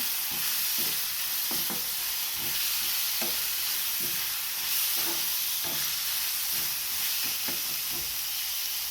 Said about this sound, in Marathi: हा दोडका आता मिक्स करून घ्या.